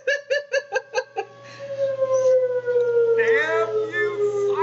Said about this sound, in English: Damn you, siren!